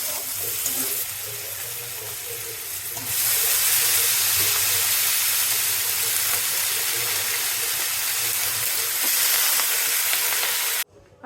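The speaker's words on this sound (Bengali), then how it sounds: "আর এই যে এখন ডিম ভেজে নিচ্ছি বাবুদের জন্য" Eggs fry in a pan with a loud, continuous sizzle that grows noticeably stronger partway through, holds steady, then cuts off abruptly at the end.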